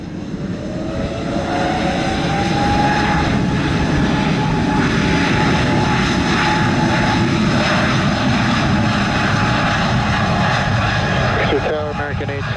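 A Spirit Airlines airplane takes off from runway 07 at Montego Bay, Jamaica, its engines roaring loud and steady throughout, with a rising whine over the broad rumble, while tower radio talk plays over it.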